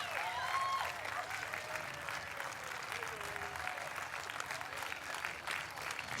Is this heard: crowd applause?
yes